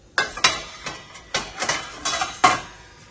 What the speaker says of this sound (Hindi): अब मैं ये बर्तन आराम से खुद ही लगाती हूँ।